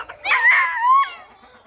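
A country chicken rooster gives one loud, close call lasting about a second, rising then falling and trailing off into quiet.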